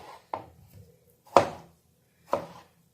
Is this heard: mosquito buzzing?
no